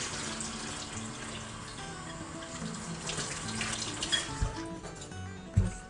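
Running water from a tap splashes steadily over salted taro root being rinsed in a sink, with soft handling clatter and a few knocks close by.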